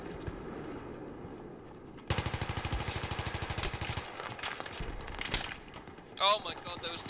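Automatic gunfire in Battlefield 3: a loud, sustained rapid-fire burst for about two seconds, then scattered shots and action noise, with a voice speaking over parts of it.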